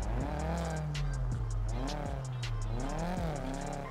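A Mustang in the video game GTA 5 revs hard with repeated tire squeals and skids, a steady loud engine drone running underneath throughout with no talking.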